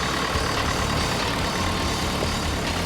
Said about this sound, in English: Carl's 30-ton, four-wheel drive forklift had us jonesing for one in our shop to move vehicles around